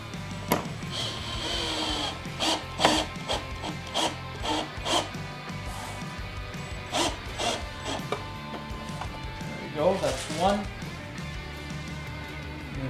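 A power drill whirs in several short bursts up close, driving screws to install an adjustable windshield on a 2020 Ski-Doo XRS 900 Ace Turbo, with brief pauses between runs.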